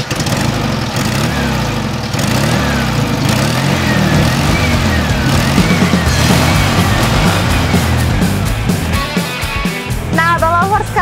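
A 1961 Volkswagen Beetle engine drones steadily and loudly from inside the classic car on a test drive, with road rumble and a buzzy air-cooled tone, while occupants talk over it.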